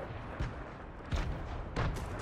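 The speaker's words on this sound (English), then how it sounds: "Lots of gunfire up here" Fortnite gunfire heard from a high vantage point, three distant muffled shots or booms spaced apart over a soft ambient bed, no talk.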